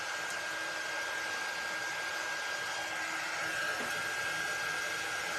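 A hair dryer blows hot air onto a transfer on a floating frame, giving an unbroken, even whirring hiss at close range with no pauses.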